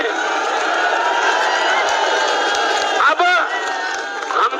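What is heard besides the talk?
crowd applauding and cheering at a political speech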